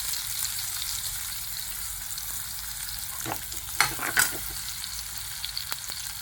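Onion with mustard seed, turmeric and asafoetida frying in coconut oil in a kadai, a steady soft sizzle with a few brief stirring clatters near the middle, no voices.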